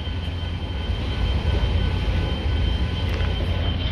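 A freight train crawls slowly past a railroad crossing, producing a steady low rumble and broadband rolling noise from nearby, with faint metallic squeaks over the top.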